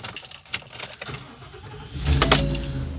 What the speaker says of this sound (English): so I'm gonna turn the vehicle on